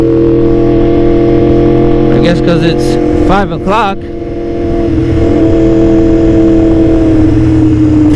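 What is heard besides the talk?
road traffic heard while riding a motorcycle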